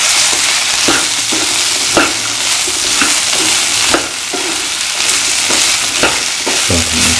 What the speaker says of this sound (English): Saute and mix very good.